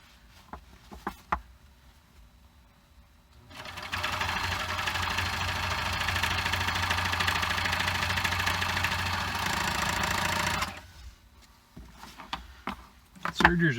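A serger sewing machine runs a test piece of fabric for a viking hood, a steady whirring motor drone lasting about seven seconds close by, with brief clicks and handling noises before and after.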